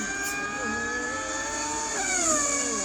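A person mimics a car engine with the voice, a steady buzzing drone whose pitch slides and climbs as if shifting gears, heard close and alone without other talk.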